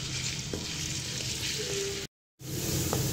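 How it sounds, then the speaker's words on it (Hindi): Chopped onions frying in two spoonfuls of cooking oil over a medium flame, giving a steady close sizzle and crackle with a few soft stirring clicks and a brief dropout partway through. "अब मैं इसके अंदर प्याज ऐड कर दूंगी। और इसे अच्छे से हम फ्राई कर लेंगे।"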